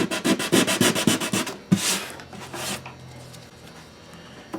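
Hand sanding with 180 grit sandpaper on an acoustic guitar bridge, with a quick run of about a dozen close rhythmic rasping strokes followed by two longer, slower scrubbing passes, then quiet.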